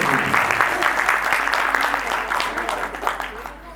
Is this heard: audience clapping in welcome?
yes